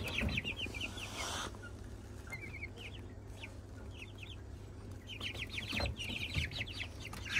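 Repeated high, thin cheeping from several Blue Porcelain Brahma chicks in quick bursts, close by, with soft rustling and handling noises in between.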